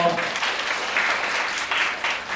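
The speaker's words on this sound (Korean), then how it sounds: "다들 박수 주세요." Audience clapping steadily at a Korean youth camp concert on stage, a dense, continuous round of applause filling the whole stretch with no pause.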